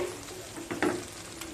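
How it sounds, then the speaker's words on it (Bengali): Cauliflower and paneer masala stir-fried in a pan for a rezala, soft sizzling with a couple of quick scraping stirs of a spatula, faint and close, over about a second and a half. "আবারও এক থেকে দেড় মিনিট ভালোভাবে কষিয়ে নেব"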